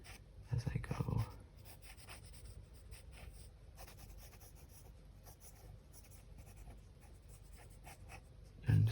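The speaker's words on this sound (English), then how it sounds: "So let me just draw like an outline for that, and then I can fill it in" A pen draws an outline on paper with a soft continuous scratch and rub, close and quiet, while a voice murmurs briefly near the start and end.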